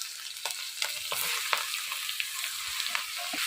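Chopped bottle gourd fries in a pan with a steady crackling sizzle, punctuated by sharp scraping stirs of a spatula at irregular intervals, close and clear with no talking.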